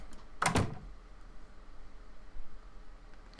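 A door shuts with one short, sharp thud as a sound effect in a visual novel video game, standing alone against quiet background hiss.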